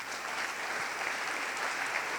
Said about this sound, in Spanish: Dele un aplauso al Rey, por favor.